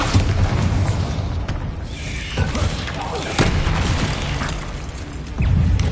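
Explosive blasts from the Bombarda spell in Hogwarts Legacy boom and crackle amid busy combat noise, with several sharp bursts across the stretch and a voice briefly present.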